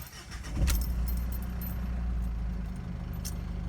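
Jeep Liberty CRD diesel engine cranks briefly and catches, settling into a steady low idle rumble, with light key jingling at the start and no talking.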